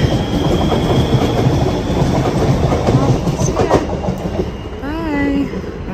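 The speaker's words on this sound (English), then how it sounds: "There goes my train." A train rolls past on the rails, loud and near, with steady rumbling clickety-clack and a brief rising squeal near the end.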